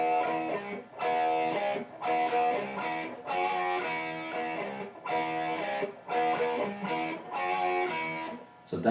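Electric guitar plays a verse riff, choppy repeated chord phrases in short bursts with brief gaps, clear and upfront with no talking over it.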